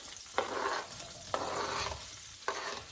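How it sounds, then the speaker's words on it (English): Cherry tomatoes sizzle in hot oil in a pan, tossed three times, each toss bringing a scraping rush over the steady frying hiss, close and fairly quiet. "Give that a little toss in that oil."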